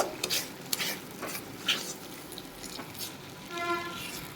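A spoon stirs a ghee and oil mixture in a pan, scraping and clinking in soft irregular strokes over a faint sizzle, with no talking.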